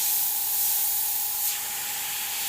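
Steady airbrush spray hiss while paint is freehanded onto a skull design, a close, continuous airy stream with a faint whine and a slight swell partway through.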